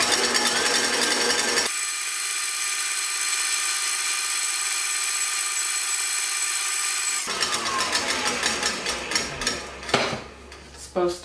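Electric mixer whisking meringue for strawberry macarons as hot sugar syrup is poured in, a loud steady motor whir that cuts out briefly, then returns with clattering beater knocks against the bowl.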